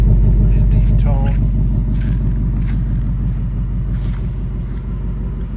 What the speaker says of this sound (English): Rumble to the exhaust,